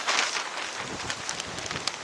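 Gusty wind blowing hard against the microphone outdoors in a churchyard in Sunderland, a rough, steady roar with no voices.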